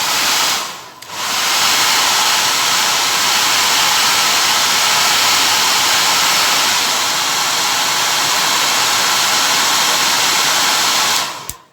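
A heat tool blows hard to soften a glued dial part on a Roberts RFM3 radio, a loud continuous rushing hiss that dips briefly near the start, then runs steadily until it cuts off at the end.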